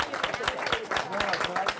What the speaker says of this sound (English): Please, a round of applause for Ray.